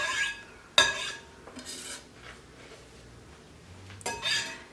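A spoon scrapes avocado flesh and knocks against a bowl in a kitchen, with a few sharp clinks and soft scraping strokes between them, close and clear with no talking.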